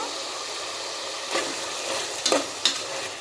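Ginger garlic paste is stirred into chicken frying in a pan, giving a soft, even sizzle with a few brief scraping strokes toward the end and no talking.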